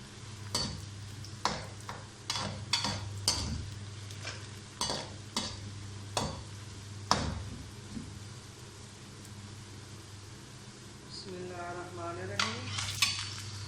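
Chicken goes into fried onions in a pot for Chitrali biryani and is stirred, a steady sizzle under repeated metal spoon scrapes and clinks against the pot, close and fairly quiet.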